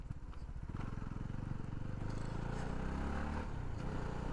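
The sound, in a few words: CF Moto NK300 motorcycle riding over a rough broken road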